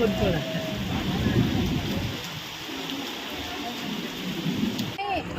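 Heavy rain pours down steadily in Nanded, a dense continuous roar of water hitting surfaces, with faint voices underneath.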